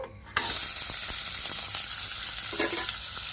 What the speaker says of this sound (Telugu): ఆయిల్ కాగిందండి. ఇందులో ఇప్పుడు ఉల్లిపాయ ముక్కలు, పచ్చిమిర్చి ముక్కలు వేస్తాను.